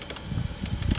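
A ratchet on an extension loosens a bolt deep inside a 2014-2019 Toyota Highlander dashboard, giving several quick, close metallic clicks in an uneven rhythm.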